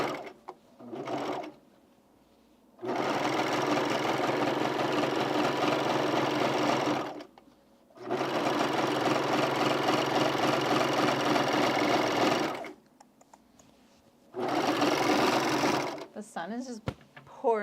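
A sewing machine stitches fabric for men's pants in three long, loud runs of steady whirring, separated by short pauses, with faint handling noise between bursts.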